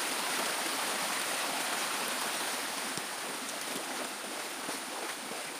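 River water rushes and flows steadily in a constant broadband wash, loud and close, with no voices, at Barangay Pansol, Lopez, Quezon.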